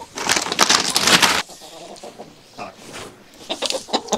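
Chickens settling on their roost during nighttime farm chores, with a burst of rustling and soft fowl noise that quiets, then scattered faint clucks and shuffles nearby.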